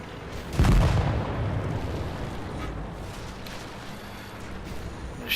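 Artillery fire in World of Tanks: one heavy, booming blast lands early, then trails off into a long rumbling decay over low background battle noise.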